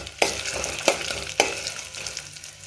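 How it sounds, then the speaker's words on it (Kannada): Dry Byadgi red chillies sizzle in hot oil for a tempering for aloo sagu, a loud steady crackling hiss with three sharp pops spaced about half a second apart, close and without voices. "ಈಗ ನೋಡಿರಿ ಹಾಕೊಳ್ಳೋದು ಬ್ಯಾಡಿ ಮೆಣಸಿನ್ಕಾಯಿ ಒಗ್ಗರಣೆ ಹಾಕೋತೀನಿ."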